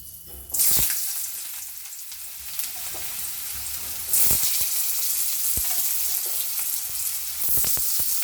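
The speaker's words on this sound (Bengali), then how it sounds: "কড়াইতে তেল বসিয়ে দিয়েছি, তেল গরম হয়ে গেছে, তেলের মধ্যে একটু পাঁচফোড়ন দিয়েছি, আলুগুলোকে ছেড়ে দিচ্ছি" Potatoes dropped into hot mustard oil seasoned with panch phoron burst into a loud sizzle, settle into continuous crackling, then flare up again as more pieces go in, with light stirring and scraping throughout.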